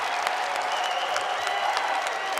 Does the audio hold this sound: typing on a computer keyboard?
no